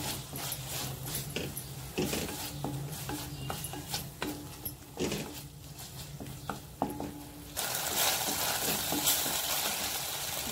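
Tomato ketchup and chili flakes fry in a pan for a Schezwan idli snack, a continuous crackling sizzle with occasional clinks and scrapes, growing brighter and louder in the final seconds.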